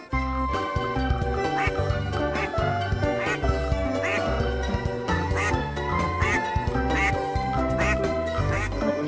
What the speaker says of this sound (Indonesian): Sini ada bebek